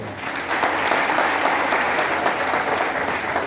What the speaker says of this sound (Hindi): नूरपुर वालों की ताली बजाओ पहले जोर से।